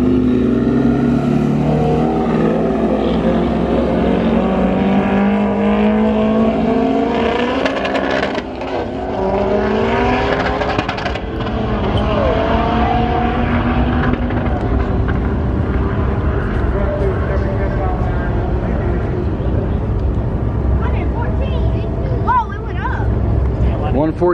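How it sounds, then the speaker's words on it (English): An MK7 Golf R accelerates hard through the gears during a roll race qualifying run, a loud, close engine note climbing in pitch with a brief dip at a missed third-gear shift, under scattered talk. "did my qualifying run. I missed third gear, but popped it right back in real fast"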